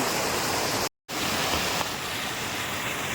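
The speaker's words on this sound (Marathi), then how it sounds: "सलग आठ दिवस पाऊस चालू आहे आणि नदीत जोरदार पाणी इला" A river swollen after eight days of continuous rain rushes hard past a weir, a loud, dense roar close by that cuts out for a moment, then resumes unchanged, with no voices.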